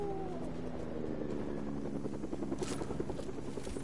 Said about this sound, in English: He stole a chopper!